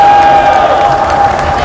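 Crowd noise and cheering fill an arena during team introductions at a women's water polo match between Singapore and Thailand at the 2017 SEA Games, a steady roar with a sustained whistle-like tone running throughout.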